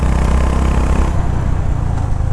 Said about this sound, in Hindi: I'm just in love with the exhaust note.